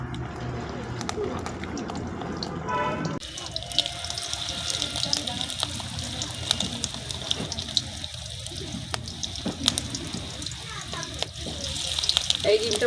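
Fish roe fritters frying in hot oil, a steady close hiss and sizzle that swells suddenly after a quieter opening and keeps crackling at moderate volume.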